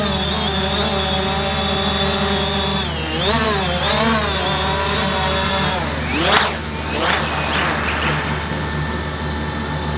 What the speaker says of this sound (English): We got a lawnmower coming in, so I think I better get this thing down and land it.